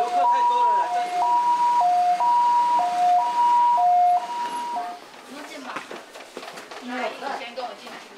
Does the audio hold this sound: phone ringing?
no